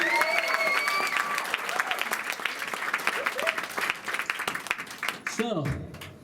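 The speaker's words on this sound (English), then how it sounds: "Big cheer for the friends." Wedding guests at Dale Farm in North Yorkshire break into loud, sustained applause and cheering, with whoops and voices rising over the dense clapping before it thins out at the end.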